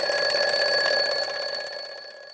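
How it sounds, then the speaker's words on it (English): A timer buzzer rings out loud and alone in a steady electronic tone with faint pulsing, holding for about two seconds before fading slightly at the end. "You can play the buzzer now, James."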